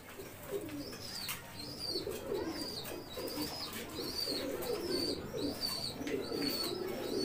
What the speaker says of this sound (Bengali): ভাই এর দেখি অনেক কবুতর।